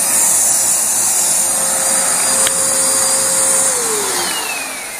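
A vacuum cleaner motor whines loudly and steadily at close range during a throttle-airflow experiment, its pitch sliding downward near the end as the motor slows.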